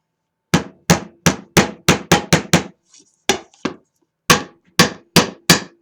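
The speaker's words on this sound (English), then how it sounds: "Need to get my hammer." A hammer strikes a homemade wreath again and again, roughly fifteen sharp, loud, close blows falling in quick uneven bursts with a brief pause midway, and no talking.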